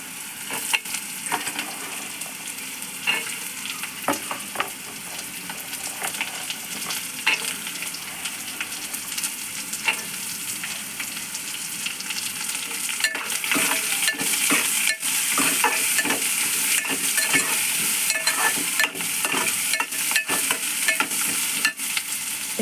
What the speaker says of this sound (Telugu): ఇలా వేగిన దాంట్లో సన్నగా తరిగిన క్యారెట్ పీసెస్ వేసుకుందాం